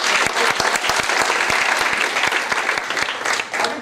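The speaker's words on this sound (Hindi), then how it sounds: "ताली बजाओ सर की" Audience at a distributor business workshop bursts into brisk, dense clapping, sharp individual claps standing out from a steady roar of applause that holds evenly for several seconds, loud and close, with no talking.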